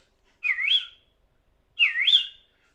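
A female tawny owl's response call: two sharp, rising-and-falling whistled calls about a second apart, clear and fairly close, separated by silence.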